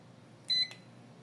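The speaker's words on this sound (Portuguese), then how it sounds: "O cabo que emitir o bip é o cabo de fase" A multimeter or voltage tester gives one short, clear high-pitched beep while a ceiling fan wire is tested during installation, alone over faint room noise.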